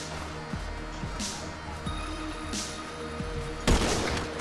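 Sniper rifle shots in GTA Online, several sharp reports spaced a second or so apart, fairly quiet, with a louder crack near the end over a low game background.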